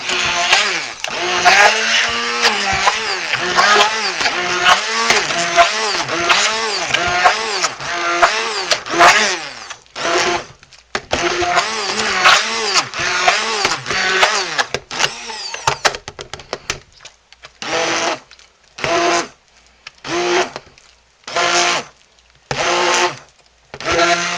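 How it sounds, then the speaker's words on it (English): A handheld stick blender whines steadily and loudly, wavering as it works, then switches to a series of short, evenly spaced bursts. "so let's get the stick blender."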